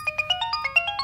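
An incoming-call ringtone on a mobile phone plays a quick run of bright electronic notes in a steady, rapid melodic pattern, close and clear with no talking.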